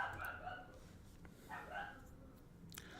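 A small, hyper pet dog barks in the background of a home, a few quick yips at the start and near the middle, faint and somewhat distant, with a voice also present.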